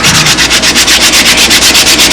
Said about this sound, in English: if you just keep incrementally sanding the blade that falls down